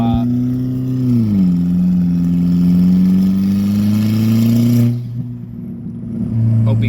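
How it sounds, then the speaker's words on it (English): A car with a hood exit exhaust and turbo but no blow-off valve, loud close engine drone that rises, settles and holds steady under boost, dropping briefly near the end before returning; a voice talks over it. "It's straight turbo noise."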